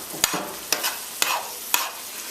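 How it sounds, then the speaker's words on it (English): Ground beef sizzles and browns in a hot pan for shepherd's pie, with four evenly spaced scraping strokes of a utensil over the constant crackle, close up. "I'm just going to brown this off just to start"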